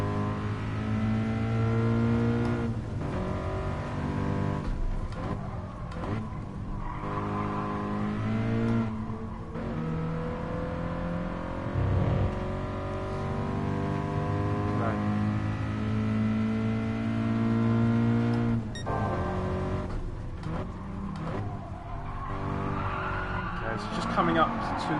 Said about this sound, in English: Bit of drifting action going on there.